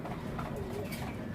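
Racing pigeons coo softly, a low, breathy throaty call heard close and fairly quiet over a steady background hum, with no talking.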